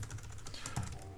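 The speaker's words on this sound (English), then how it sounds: "I gotta get better at typing if we're going to do this" Quick keystrokes on a computer keyboard tap out a short, uneven burst of clicks, close and fairly quiet, with no voices.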